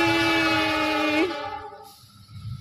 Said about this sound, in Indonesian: Kereta Argo Wilis sudah ada di depan kita semuanya.